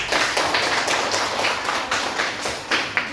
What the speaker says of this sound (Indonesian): Ayo berikan tepuk tangan.